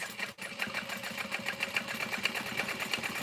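A sewing machine top stitches a foam-lined bag side panel through the seam allowance at a 4.5 stitch length, giving a steady, fast, close mechanical whirr and patter that runs on without pause.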